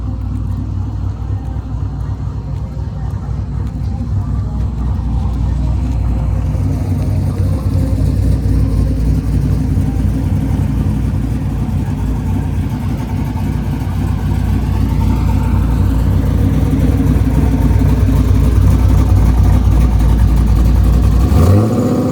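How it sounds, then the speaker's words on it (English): A 1998 Camaro with an LS1 engine doing a burnout on nitrous: a loud, sustained low engine roar that holds steady and slowly builds in intensity over about twenty seconds, close by, with no pauses. "He's gonna work on the burnout, and he's just gonna go ahead and hit the nitrous."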